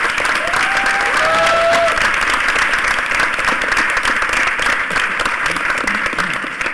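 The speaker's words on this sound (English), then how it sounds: "can we give a round of applause to all the volunteers" Audience applause for volunteers at a hacker conference panel in a large hall, sustained dense clapping that holds steady and fades slightly toward the end, with faint tonal chirps briefly audible early on.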